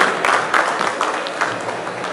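An audience at an Authors Guild of India gathering on neglected freedom fighters claps steadily to welcome a speaker, a dense, even patter of hands filling the room.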